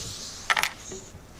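A brief cluster of light metallic clicks and taps from a zipper knocking against a guitar, in a quiet room with a faint soft tap after.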